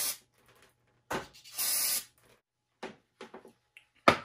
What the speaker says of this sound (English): I'm just gonna spray it with a little carb cleaner.